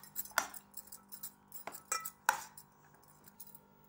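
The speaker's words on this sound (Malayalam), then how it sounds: "കായപ്പൊടി, ഇനി നന്നായി ഇളക്കി കൊടുക്കാം." A spoon stirs mango pickle with asafoetida powder in a pot, making a handful of light metallic clinks and soft scrapes spaced irregularly against near silence.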